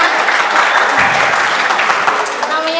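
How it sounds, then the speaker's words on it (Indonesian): Applause from an audience at a mental health literacy session as a speaker is called to the front, steady dense clapping throughout with voices talking over it. "Kita beri tepuk tangan"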